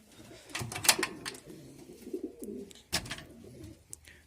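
Homing and fancy pigeons coo in a loft, soft low throaty calls overlapping in a steady murmur, with a couple of brief sharper sounds and no talk.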